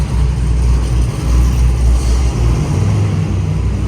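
A stage 4 cammed Chevy SS running E85 idles with a loud, lumpy, uneven chop, a deep rumbling engine close by with no talking.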